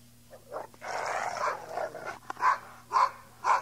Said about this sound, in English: Tobar, bring the dogs.